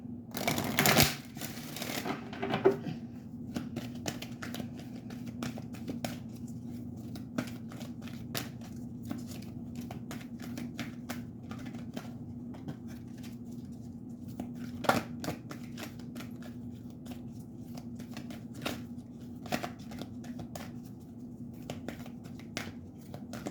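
A deck of cards for a tarot-style spirit guide reading is shuffled, with a loud burst of riffling at the start and then steady soft card shuffling and tapping throughout, close and alone.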